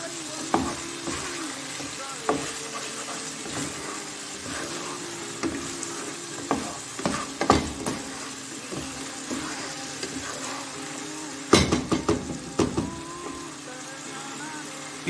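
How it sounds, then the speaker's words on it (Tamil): Food stirred in a frying pan, a continuous sizzle broken by repeated scraping and clinking strokes of a utensil against the pan, close and clear, with a louder clatter near the end. "இப்போ என்ன செய்றீங்கன்னா இது நல்லா மிக்ஸ் பண்ணிக்கிங்க."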